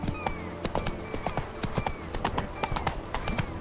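Roach, a horse in the video game Witcher 3, gallops in a quick, even clip-clop of hooves that runs close and clear through the whole stretch.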